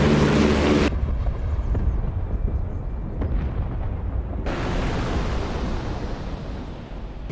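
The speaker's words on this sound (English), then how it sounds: "Some premature detonations there, I don't know why." Missile warhead detonations in a WWII bomber raid versus modern SAM network war game simulation, an abrupt loud blast followed by low rumbling and wind-like noise, then another burst of broad noise.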